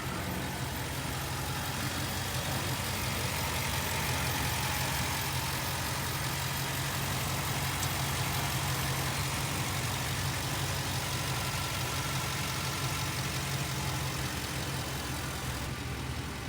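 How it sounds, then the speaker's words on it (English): A 6.2 liter V8 gasoline engine in a 2019 Ford E-350 cutaway box truck idles steadily with a low, even rumble, close and continuous, with no talking. "I'd like you guys to take a quick look and hear at our engine."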